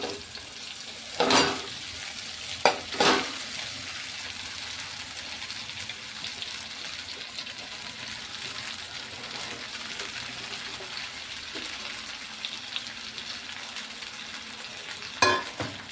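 Sabudana is stirred into a pan with fried potato and chili, giving a steady sizzle and fry close by, punctuated by a few sharp scraping stirs of the spoon.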